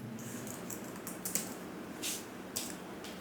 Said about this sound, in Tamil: இதில் போய்ட்டு ஹெட்டர்னு டைப் பண்ணுறோம்.